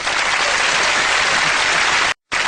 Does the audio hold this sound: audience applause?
yes